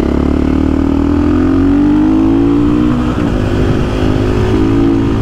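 A KTM 500 EXC-F 2024 motorcycle's engine drones steadily while riding, loud and close throughout, its pitch rising gradually then dipping slightly and climbing again, with no talking over it.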